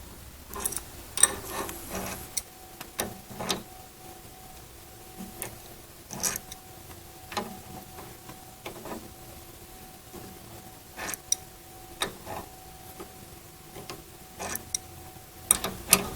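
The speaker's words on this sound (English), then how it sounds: "Now use a adjustable wrench, and you're going to turn that clockwise. Continue turning it clockwise until it's tightened." An adjustable wrench turning a bolt clockwise to tighten it during crossbar removal and installation on a BRT7820 Trio-Trainer, giving faint, irregular metallic clicks and ratcheting ticks over a quiet background with no talk.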